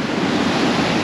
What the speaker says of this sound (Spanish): Esta playa es de muchísimo más oleajes, como para que te golpeen las olas.